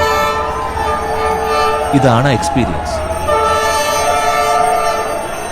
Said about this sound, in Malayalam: തൊട്ടടുത്തുകൂടെ ഒരു ട്രെയിൻ കടന്നു പോകുന്നത് കാണുന്നു